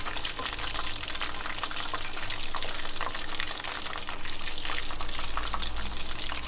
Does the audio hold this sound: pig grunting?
no